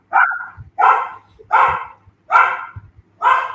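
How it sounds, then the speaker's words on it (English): A dog barks five times in a steady rhythm, loud and close, each bark short and sharp with brief pauses between. "if it's your dog barking, it's no big deal"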